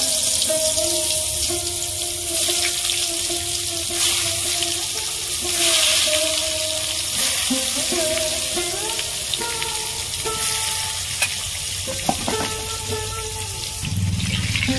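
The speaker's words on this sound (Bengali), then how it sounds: "এবার আমি বেগুনগুলো ভেজে নেব।" Eggplant slices fry in hot oil for a Bengali vegetarian meal, giving a steady close sizzle with watery crackle and faint clinks, quiet talk drifting in underneath.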